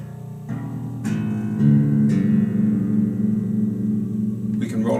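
With both pickups together, a handmade five-string electric bass rings out four or so plucked notes one after another, full and close, the low tones overlapping and sustaining steadily to the end.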